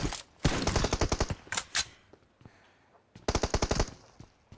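Rapid automatic gunfire in a shooter game, firing in several fast bursts separated by short pauses and scattered single shots, loud and close with no speech.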